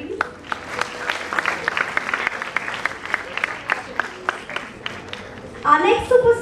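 An audience claps steadily in a sustained round of applause, with a louder burst of cheering and clapping swelling near the end.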